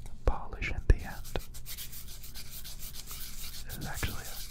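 Soft rubbing and sanding strokes on a camera lens lubricated for polishing, close and quiet, with a few sharp clicks early on and steady gritty friction throughout.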